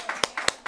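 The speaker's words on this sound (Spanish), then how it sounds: "se merece un aplauso" A few people clap at a municipal council session, a short, sparse burst of hand claps, several distinct slaps spaced apart, close and moderately loud.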